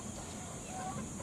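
Faint clucking from turkeys kept on a small farm, soft low calls over a steady background hiss, heard at a distance.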